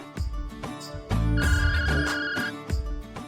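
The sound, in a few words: mobile phone ringing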